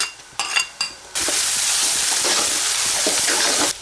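Ginger and garlic hit hot oil with a loud, steady sizzle that swells suddenly after a few quick clinks of a utensil and holds evenly to the end.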